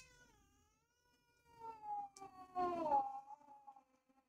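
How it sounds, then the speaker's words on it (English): Two house cats meow loudly and repeatedly indoors, with drawn-out, wavering cries rising in the second half and one brief sharper sound near the middle, against a quiet room. "I've got two cats here that are driving me nuts."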